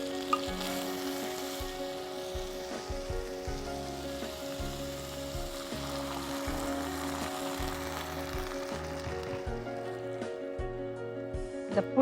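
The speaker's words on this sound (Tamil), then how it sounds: "தோல் வெளிப்பக்கமாக சுருண்டு வர வரைக்கும் நம்ம இதை வதக்கணும்" Tomato, green chilli and crushed gooseberry sautéing in a pan for gooseberry sambar, a steady close sizzle with a slow, repeating stir that keeps going throughout.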